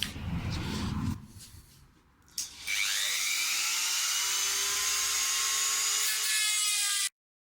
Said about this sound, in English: this time I'm going to try it with these Dremel branded heavy duty cut-off wheels, number 420